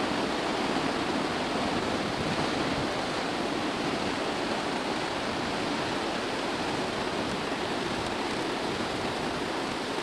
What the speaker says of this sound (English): the waves are crashing in very high